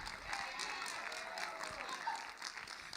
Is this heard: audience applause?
yes